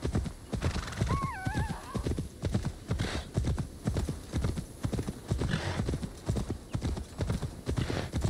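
A horse in Assassin's Creed Valhalla trots with steady, rhythmic clip-clopping hooves close by, and a short whinny rises early on above the footfalls.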